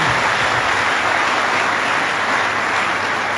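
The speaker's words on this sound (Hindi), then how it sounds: "एक बार जोरदार तालियों से उनका स्वागत करिए।" Audience applause welcoming a guest at a cyber crime and security seminar, a dense, steady burst of clapping from a sizable crowd, loud and continuous throughout without voices.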